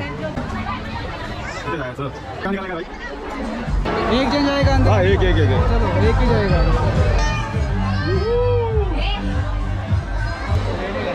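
A packed Sunday crowd at Manthan Resort in Virar fills the air with dense, steady chatter and overlapping voices. Nearby people talk over the babble, and the crowd noise grows louder partway through.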